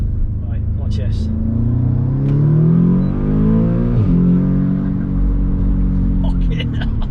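An Audi S3 8V turbo accelerates hard in second gear from inside the cabin, its engine tone climbing steadily and loudly, dropping briefly at a shift point before rising again, with a deep rumble throughout.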